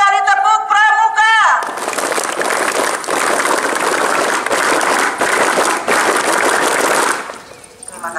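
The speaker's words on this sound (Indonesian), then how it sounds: "2 kali tepuk Pramuka." A few sung or chanted voices at first, then an Indonesian Scout (Pramuka) group bursts into loud, rhythmic clapping in a patterned beat that continues for several seconds before fading.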